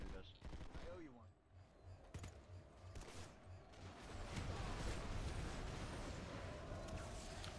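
Small arms gunfire in a video game: bursts of rapid shots and cracks, building into dense continuous firing, heard at moderate distance under a speaking voice.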